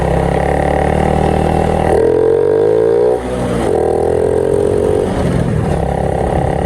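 A Honda 110i motorcycle ridden at a relaxed pace, its engine droning loud and close with shifting pitch as it eases off and picks up again, and a brief dip midway.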